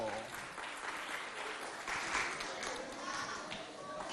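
A crowd at a school competition between two schools applauds a newly introduced contestant, producing a faint, continuous wash of clapping with voices mixed in underneath.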